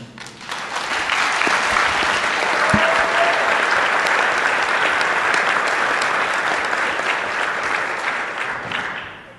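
An audience applauds to welcome a panel of church speakers at a conference session on missional churches in Africa. The clapping swells quickly into a full, even roar, holds steady for several seconds, then fades away at the end.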